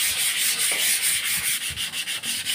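Light hand sanding with grit 150 sandpaper before an automotive duco spray finish, a close, brisk, rhythmic rasping of quick back-and-forth strokes with no talking.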